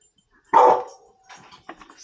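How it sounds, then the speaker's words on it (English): A dog in a cluttered indoor carving workspace gives one loud, close bark, then a few softer yips and whimpers trail off in the quiet. "Can you please stop barking?"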